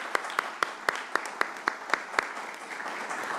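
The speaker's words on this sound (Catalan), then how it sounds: "Podem aplaudir?" Audience applause at a Catalan book presentation, a steady run of sharp, evenly spaced claps over a soft crowd murmur, fairly close.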